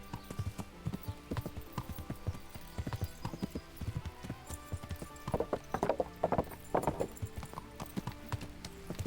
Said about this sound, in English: This horse just materializes out of nowhere.